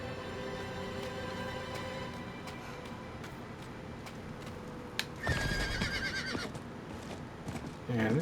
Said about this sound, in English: we're going to use the horse to get out of town